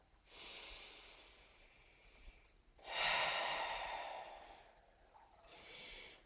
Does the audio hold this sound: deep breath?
yes